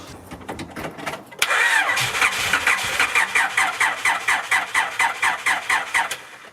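A car engine cranks after being hooked to a Noco GB20 jump starter, with a click and then a long run of rapid, even starter-motor pulses that keep going without clearly catching.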